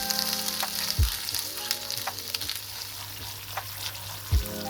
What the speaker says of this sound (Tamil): குடமிளகாய் பேஸ்ட்டை ஊற்றி நல்லா கிண்டுவோம்.